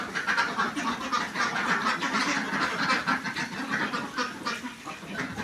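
A flock of healthy laying ducks quacks continuously and loudly at close range, a dense, overlapping chorus of calls with no talking.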